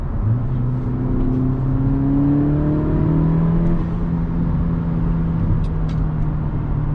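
A car running a TSP Stage 1+ tune accelerates in sport mode, with a steady loud engine drone that climbs in pitch through the gears and holds strong for several seconds, with no voices.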